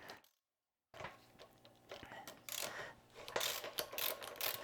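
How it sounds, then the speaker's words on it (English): A ratchet fitted with a deep well socket loosens the posts on a beer keg, producing quiet, close mechanical clicking and clattering that starts after a short silence and grows busier. "You can use an open end wrench on there to get them off. I like a deep well socket."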